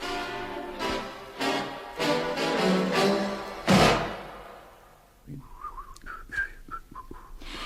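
A man whistles a tune indoors in a Romanian radio stage comedy, with thumps and a door-like knock midway, then a softer whistled melody continues.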